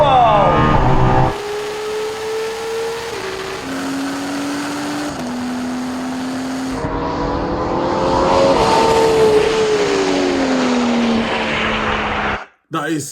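A Pagani and a Ferrari race and accelerate, the turbocharged Pagani's engine note climbing and stepping through gear changes in loud, sustained revving, with the tone dropping briefly before one last cut-off at the end.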